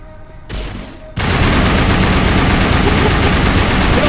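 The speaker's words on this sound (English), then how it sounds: "I think I will pop in some explosive ammo if it'll let me do that mid-fight here." Rapid gunfire with explosive incendiary ammo in the video game Mass Effect, a dense continuous burst of loud shots that kicks in after a brief quieter lead-in and keeps hammering to the end.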